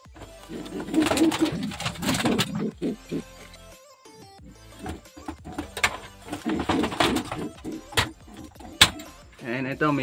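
Racing pigeons cooing softly in a crate while being loaded for training, with bursts of fluttering, clattering handling noises and someone talking intermittently nearby.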